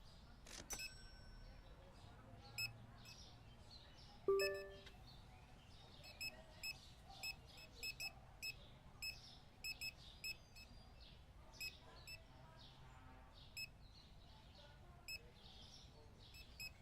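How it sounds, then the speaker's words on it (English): Scanner beeps from a checkout in the Supermarket Simulator shoplifter update, about a dozen short, faint, evenly spaced bleeps spread over quiet room tone, with one louder clunk early on. "Beep, beep, beep, beep."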